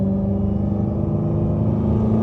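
A Dodge SRT Hellcat running from inside the cabin, its engine droning steadily with a sustained whine riding over the low rumble, loud and unbroken.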